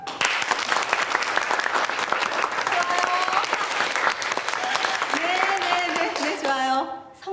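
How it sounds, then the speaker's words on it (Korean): Audience applause on a Korean TV drama set, a loud, continuous roar of many hands clapping with crowd noise, and voices calling out over the clapping toward the end. "박수!"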